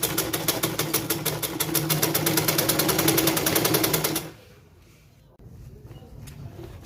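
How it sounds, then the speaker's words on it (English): A sewing machine stitches around a round foam hip pad, a close rapid even chatter for about four seconds before stopping, followed by quiet handling noise. "So I'll just pin 2 and I'll start sewing."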